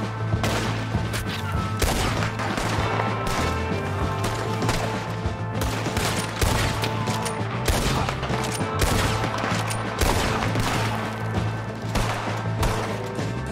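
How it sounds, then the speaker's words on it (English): Heavy, dense gunfire in Red Dead Redemption 2, many overlapping shots cracking nonstop through a chaotic firefight, loud and close throughout with steady background noise and no pause. "Who's shooting?"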